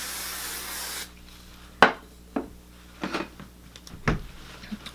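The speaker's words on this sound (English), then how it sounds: "I'm gonna spray this side. I'm gonna give it all one spray." Hairspray misted onto hair while waving it: a steady hiss fills the first second, then stops, followed by several short close-up rustles and taps of handling, with no talking.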